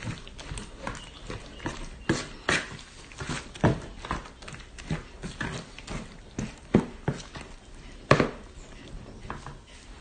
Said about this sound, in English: So I'm just going to stir this in.